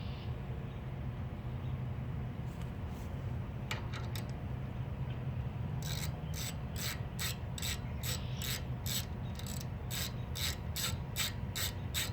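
Ratchet tightening bolts on a Kawasaki FH721V engine's fuel pump on a Bobcat, a few hesitant clicks then a fast regular run of ratchet clicks over a steady low background hum.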